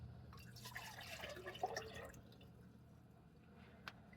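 Water from a mug poured into a vintage 1950s tea kettle inside an RV, a short splashing and trickling pour with light drips, close and fairly quiet.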